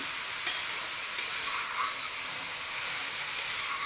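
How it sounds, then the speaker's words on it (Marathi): Grated carrots sauté in ghee for gajar halwa, a soft continuous hiss and sizzle up close with a few light stirring taps against the pan. "पहिल्यांदा असं थोडंसं तुपावर गाजर छान परतून घ्यायचं, एक 5 ते 7 मिनिटं"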